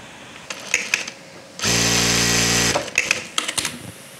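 A Jack A4 industrial sewing machine, its hook timing freshly set, runs in one steady, loud mechanical whir for about a second, framed by scattered clicks and taps of handling before and after.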